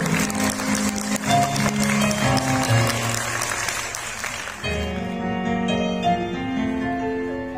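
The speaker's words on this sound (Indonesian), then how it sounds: "Beri aplaus teman-teman." Applause at a government plantation office retirement ceremony in East Java: a crowd claps steadily and loudly while background music plays throughout.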